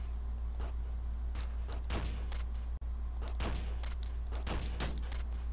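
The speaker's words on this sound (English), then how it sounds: "What's this do? Shotgun." Rapid shotgun blasts in the video game Downwell fire as short, sharp bursts at an irregular pace over a steady low hum, loud and close, with no talking.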